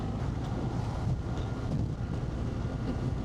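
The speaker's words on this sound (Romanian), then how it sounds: "Și ce puternic e vântul și de laterale." A strong crosswind buffets a motorcyclist on the road, producing a continuous low, rumbling roar at moderate level with no pauses.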